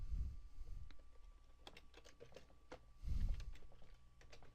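Someone types a photo caption on a computer keyboard, a scattered run of light, quick key taps at moderate level, with a couple of low thumps in the background.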